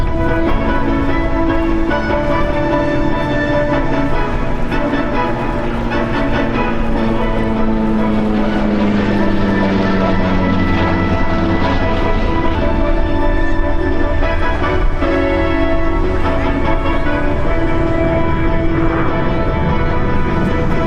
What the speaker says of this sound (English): You see Ed Besley in the one and only flyable SB-2C Helldiver in the world.